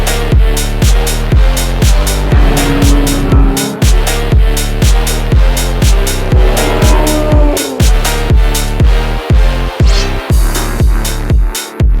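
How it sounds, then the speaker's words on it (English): A race car with LimitR Racing team livery at Brands Hatch during Tunerfest South, its loud engine firing in rapid repeated bursts and pops as it heads out on track, close and dominating. "This car is going out on track"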